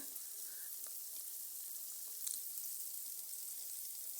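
Japanese punti fish frying in a wok, a steady quiet hiss of oil with faint crackles and one small pop partway through, no voices.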